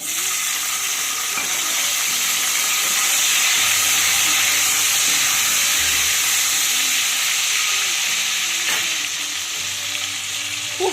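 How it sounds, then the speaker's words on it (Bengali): Black cumin seeds and chopped tomato frying in oil in a pan, a steady loud sizzle with occasional stirring scrapes, close and continuous with no speech. "কালো জিরেটা একটু ভেজে নিতে হবে ফোড়ন থেকে ভাজা ভাজা সুন্দর একটা গন্ধ বেরোলে আমি দিয়ে দেব টমেটো"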